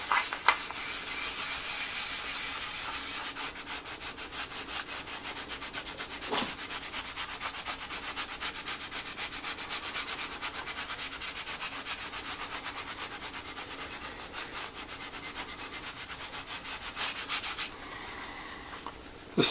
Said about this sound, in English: We'll just rub in on the dark spot.